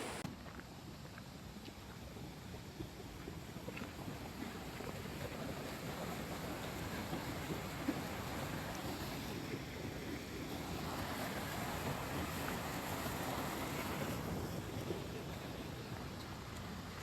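Wild, rushing water in a stream swollen by heavy rain, a dense continuous roar of churning flow heard close, steady throughout with slight swells in intensity and no voices.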